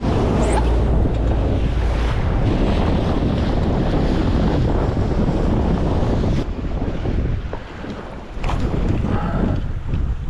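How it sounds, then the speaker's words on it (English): Strong wind blows steadily across open sea while fishing from a boat, a loud continuous roar of gusts and rushing water with microphone buffeting, easing slightly near the end. "There's a little bit of wind around."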